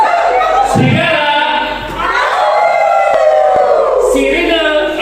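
Many voices at a storytelling workshop together imitate a wolf, holding a loud, drawn-out howl that rises and falls, with a crowd-like blend of tones.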